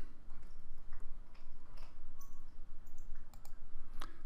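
A few sparse computer mouse clicks, light and close, scattered over several seconds against a soft background hiss.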